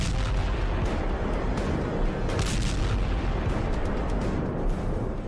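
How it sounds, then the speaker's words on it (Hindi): A missile strikes the top of a Russian tank and blows up the turret. The result is a loud, sustained roaring blast with rumbling bursts and crackling, heavy and close, with no talk. "ये मिसाइल आई और टैंक के ऊपरी हिस्से पर वार किया, और फिर देखिए इसमें धमाका होने के बाद टैरेट का क्या हाल होता है"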